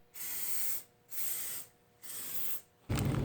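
Three steady bursts of spray paint hiss from an aerosol can coating cut sheet metal parts for a Jeep XJ fender flare install, each about half a second apart, followed by a louder broadband rush at the end.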